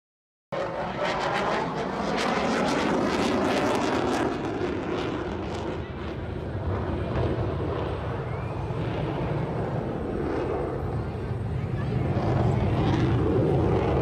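An F-22 Raptor jet flies overhead outdoors at a summer gathering, a loud, sustained roar that swells and rumbles for over ten seconds with faint voices beneath.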